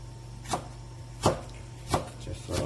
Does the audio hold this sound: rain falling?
no